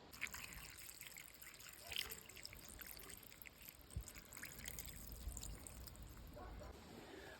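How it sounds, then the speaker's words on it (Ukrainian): Marinade trickles and splashes quietly as it is poured over purslane, a soft continuous liquid sound with a few small drips, faint and close. "І заливаємо маринад."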